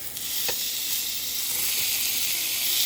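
Steak seared in a hot pan, a loud continuous hissing sizzle close up after a brief contact sound as it is flipped.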